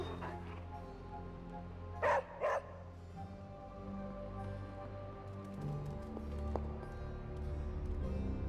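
Charlie the dog barking in Marvel's Midnight Suns, two sharp close barks early on over a low ambient game background with faint footstep-like clops and a few later clicks.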